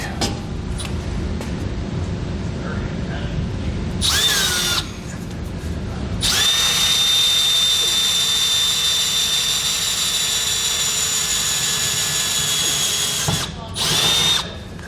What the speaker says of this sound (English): use a small drill bit, drill a pilot hole from the bottom